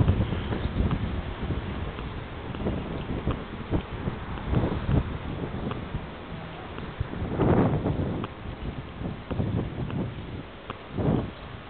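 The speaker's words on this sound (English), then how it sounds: "A little windy though." Wind gusting across a microphone outdoors on a sunny day in Houston, low rumbling buffets that swell and fade in irregular bursts.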